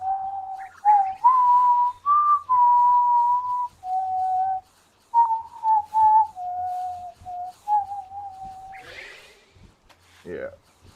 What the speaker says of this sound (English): Also got the whistle down.